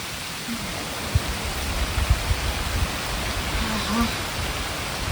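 Steady rain falls outside a village home where a meal is being cooked, a dense, even hiss with a few soft low thuds and a faint voice in the background.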